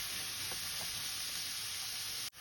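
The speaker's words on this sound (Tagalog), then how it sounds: "Ginisa ko na ang onion and garlic." Onion and garlic sautéing in a pan, a steady close hiss of frying that holds throughout, with a couple of faint clicks and an abrupt cutoff at the end.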